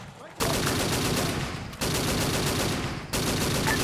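Sustained automatic machine gun fire in the Arma 3 video game, during a Zeus-run Indochina operation, heard as three dense, loud bursts separated by brief gaps.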